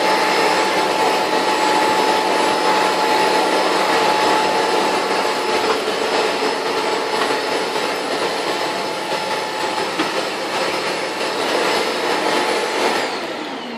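A Shop-Vac wet/dry vacuum runs loud and steady nearby, a continuous rushing whine with a faint tonal hum, cutting off just before the end.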